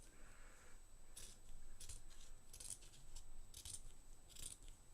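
Scissors snipping around mask material, a series of faint, crisp cuts spaced about a second apart over a low background hiss, with no talk.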